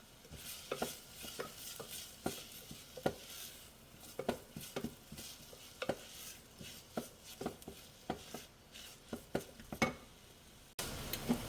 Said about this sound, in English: just saute it a little bit until a slight raw smell leaves the onion